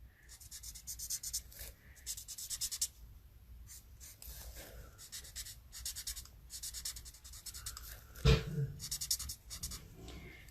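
A light-colored marker is dragged over paper in short repeated bursts of scratchy coloring strokes, close and fairly quiet, with one brief louder knock near the end and no talking.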